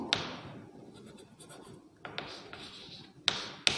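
Pen or chalk writing out answers to questions in a classroom lesson, a soft continuous scratching with a few sharper taps and strokes, close and fairly quiet, no talking.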